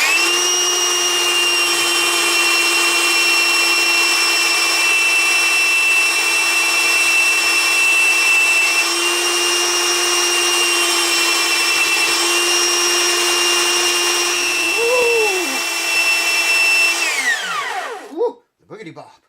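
A rotary power tool grinds and melts plastic on an Epiphone FT130 guitar with a steady high whine, holding nearly constant for about seventeen seconds before the pitch sweeps down and it winds off.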